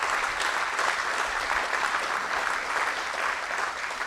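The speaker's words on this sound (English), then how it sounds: "I'd like for all of you to give them a round of applause for the terrific things they've done" Crowd applause at a political event in Sioux Center, Iowa, honoring state legislators: a sustained wash of many hands clapping at an even level, with no talking over it.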